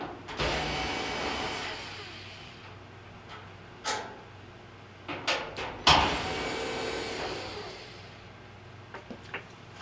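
A power driver whirs as 5/16 bolts come out of the front panel of a Whirlpool dryer, one long run and then a second, with sharp metallic clicks and knocks in between.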